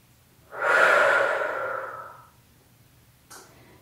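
A single long, audible inhalation through the mouth during a posture exercise, close and breathy, lasting about two seconds and followed by a brief quiet, then a short faint breath at the end.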